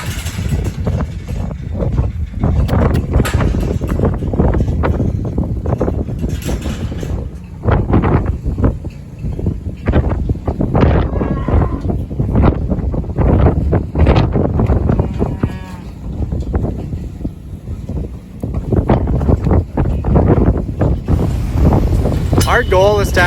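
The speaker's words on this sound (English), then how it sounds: "It's a really windy day today." Strong gusts buffet the microphone with heavy low rumbling, rising and falling continuously, while a person talks in short stretches and cattle call faintly, outdoors on a ranch in the Black Hills.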